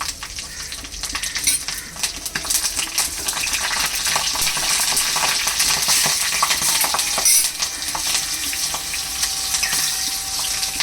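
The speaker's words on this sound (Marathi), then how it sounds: "आता मोहरी जे आहे ते छान तडतडले गेलेत तर मिरच्या याच्यात टाकूयात" Loud, continuous crackling sizzle of green chillies frying in hot oil with mustard seeds, steady and close throughout with no talking.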